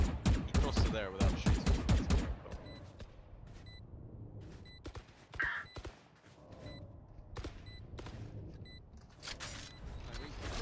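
Gunfire in the video game Valorant: a rapid burst of shots up front, then scattered single shots and game sound effects, with a player talking over it.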